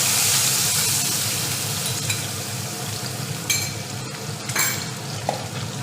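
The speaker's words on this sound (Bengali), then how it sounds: "ফোড়নটা এবার ভাজা হয়ে গেছে, এর মধ্যে দেবো হচ্ছে এই মশলাটা দিয়ে দেবো" Ground spice paste for bottle gourd goes into a fried tempering in a pan, sending up a loud close sizzle that settles as a spatula stirs with occasional light clinks and scrapes.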